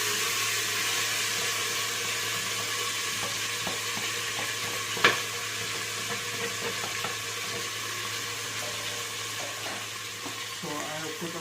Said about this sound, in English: once these chilies are fried, what I'll do is I'll put our marinated mixture and allow it to cook